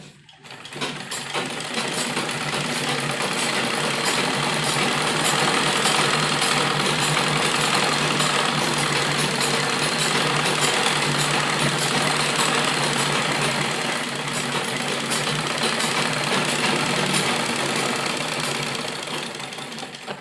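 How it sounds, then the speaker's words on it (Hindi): A sewing machine stitching along a folded fabric edge while making a kurti, its motor running in a loud, steady whirring drone for the whole stretch, alone and without talk. "यहाँ एक अच्छी सिलाई लगाएंगे।"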